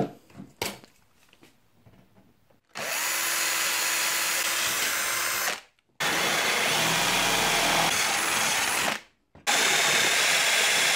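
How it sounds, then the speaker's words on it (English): A power drill bores holes in a board for an ultrasonic light bar, moving from the smallest bit to the biggest. It runs in three long, loud whirring bursts with short pauses between them and some handling noise before the first. "I first use the smallest drill and then go right to the biggest drill"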